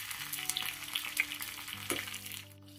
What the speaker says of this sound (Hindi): फिर डालेंगे सफ़ेद तिल